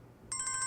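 A mobile phone ringtone starts partway through, a bright repeating electronic trill ringing steadily and fairly clearly in a quiet indoor room with no talk.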